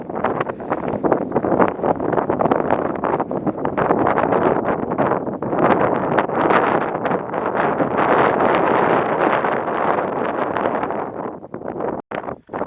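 Strong wind at 4,300 feet elevation buffets the microphone in loud, gusting rumbles, constant and rough, with brief drops near the end.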